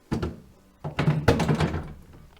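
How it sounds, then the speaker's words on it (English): A large drawer slides into a KitchenAid appliance with a few solid thunks and a rattling knock as it seats, close and fairly loud, without speech. "so the big drawer goes in"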